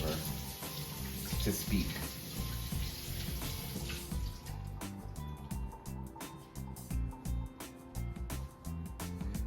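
Tap water runs steadily into a sink while a plant pot is washed and rinsed out during repotting, with a person talking over the flow throughout.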